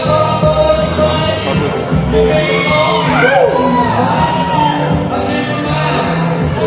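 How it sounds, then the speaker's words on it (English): A lively crowd at a roast of Joe Cruz cheers and shouts loudly, with whoops and raised voices merging into a boisterous, continuous roar. "Let's have a round of applause for the people that had to put up with Joe Cruz."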